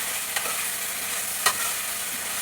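Brinjal, tomato and salt fry in a pan, a steady close hiss of sizzling with two brief clicks from a stirring spoon.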